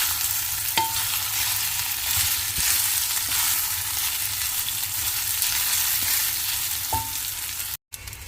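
Chana dal and urad dal frying in a pan while being mixed, a steady bright sizzle with a few soft spoon taps and scrapes.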